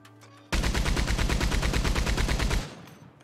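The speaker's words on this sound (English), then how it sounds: "Was it a Maxim gun?" A Maxim machine gun in Red Dead Redemption 2 fires one sustained, loud burst of rapid, evenly spaced shots lasting about two seconds, then stops abruptly and the sound fades.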